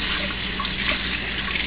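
Running tap water splashes steadily at moderate level while ground cinnamon is washed out, a continuous hiss with no speech.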